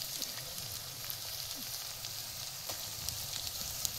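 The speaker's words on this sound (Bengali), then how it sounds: "এবার আদা রসুনটাকে আমরা দিয়ে দিচ্ছি" Ginger and garlic paste fries in oil in a pan over a wood-fired clay stove, a faint, steady sizzle with a few light clicks and no talking.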